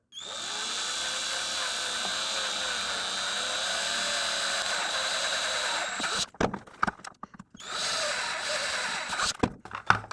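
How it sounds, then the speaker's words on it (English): A power drill bores a hole into a plastic gel blaster trim piece, a loud continuous whine for about six seconds, then short stuttering bursts and a final renewed run, close up. "I'm going to drill right here in the corner of this design"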